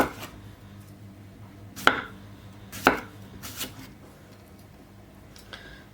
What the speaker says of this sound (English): So I'll just keep chopping this up.